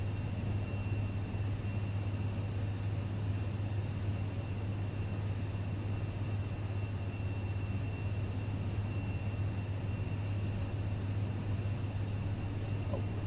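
A Cirrus Vision private jet's engine in Microsoft Flight Simulator 2024 holds a steady, even drone with a low hum throughout, continuous and unchanging with no voices over it.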